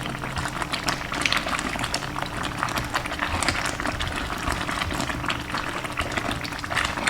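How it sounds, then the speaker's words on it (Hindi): Hot jaggery halwa bubbling and spitting in a pan: a dense, steady crackle of popping and spattering, close and fairly loud, going on without a break and with no talk. "ये जो इसके छींटे उड़ रहे हैं ये बड़े सख्त गर्म लगते हैं"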